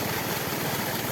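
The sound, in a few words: engine-driven water pumps draining a fish pond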